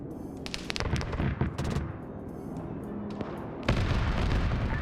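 A ZU-23 anti-aircraft gun fires in a video game, loud rapid bursts of heavy autocannon shots with booming reports, a pause, then another sustained burst.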